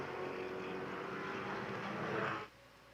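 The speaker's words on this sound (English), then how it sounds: "Hear that amazing engine note." Grand Touring race car at the SCCA Runoffs flashing past near 175 mph, a loud steady engine roar that swells and then drops away sharply as it passes.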